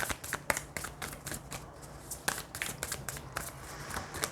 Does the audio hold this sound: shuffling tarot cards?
yes